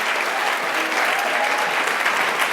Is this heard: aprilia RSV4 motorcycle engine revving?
no